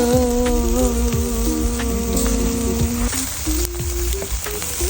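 Pork barbecue sizzles loudly and steadily on a grill at an outdoor barbecue night, with dense close crackling and hissing throughout, and faint tonal music or voices in the background.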